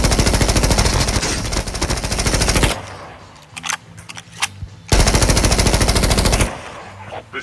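Enemy gunfire in the Call of Duty Mobile video game, loud sustained automatic bursts lasting a few seconds each, separated by a quieter gap with scattered single shots.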